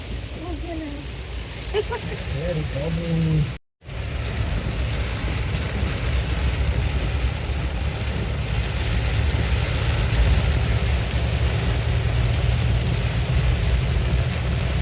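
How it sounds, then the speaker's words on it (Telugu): Heavy rain pours steadily in a dense, even hiss throughout, with a brief voice at the start and a short dropout just before four seconds. "పెద్ద వర్షం అయితే పడుతుంది"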